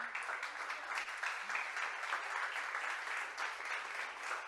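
A church congregation applauding together, steady broadband clapping that fills the space for several seconds at moderate level, with a faint voice beneath.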